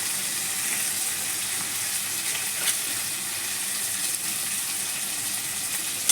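Green chillies and softened tomatoes frying in a pan, a steady bright sizzling hiss with faint crackle that holds evenly throughout, close up and with no talking.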